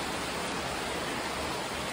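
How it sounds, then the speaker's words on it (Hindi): Steady rain falling outdoors in the morning, a dense, even hiss with no distinct drops standing out, continuous and fairly loud for the whole stretch with no voices over it. "देखिए जी, बारिश आ रही है।"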